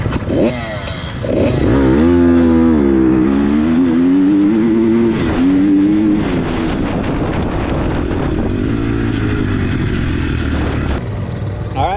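Off-road dirt bike engine revving hard during a race, a loud close whine that climbs and dips as the throttle opens and gears change, holding a sustained roar throughout.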